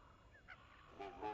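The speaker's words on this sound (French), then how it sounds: "je fais entendre celui qui ressemble à un klaxon" Short, nasal honking tones from a synthesizer, a few brief bursts that sound like a goose or a car horn, played fairly quietly.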